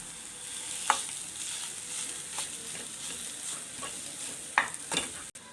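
Boiled potatoes tumble into frying turmeric masala for chatpata aloo bonda, a steady quiet sizzle broken by a few sharp spoon scrapes and clinks, the strongest knocks near the end, with no talk.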